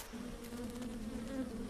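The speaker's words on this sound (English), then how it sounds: "Stingless bees. They have to work hard." Stingless bees in a forest give a steady, faint buzzing hum that holds a constant pitch, with no other sounds.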